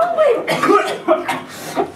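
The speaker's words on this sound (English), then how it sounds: "this is the wrong way to cough" A person acts out an exaggerated wrong-way cough for a health lesson: several close, loud, harsh cough bursts in quick succession over about two seconds, with no speech.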